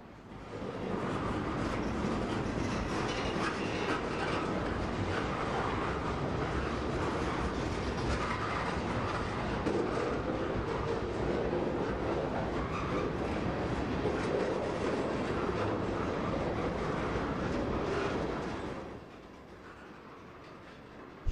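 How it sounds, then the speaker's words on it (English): A freight train of boxcars, tank cars and flat cars rolls past for about twenty seconds with a steady rumble and faint wheel clatter, then fades, with no voices. "This train has a consist of locomotives, boxcars, and tank cars."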